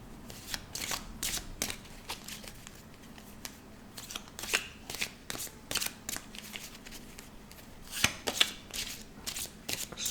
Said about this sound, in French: Elles sont mélangées aussi celles-ci, hein, à l'endroit, à l'envers